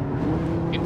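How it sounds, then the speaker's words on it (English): A race car engine in Gran Turismo 5 drops into second gear, a loud, close, low engine drone with steady tone held under a talking voice. "Right, slowing down into second gear for the first hairpin corner"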